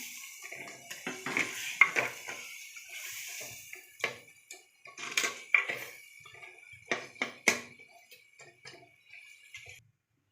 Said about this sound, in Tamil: இந்த கிண்டு.